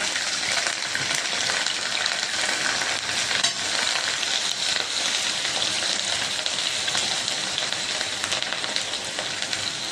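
About twenty green chillies and curry leaves fry in hot oil while lemon pickle is being made. A dense, continuous sizzle and crackle carries on without a break, and no one talks.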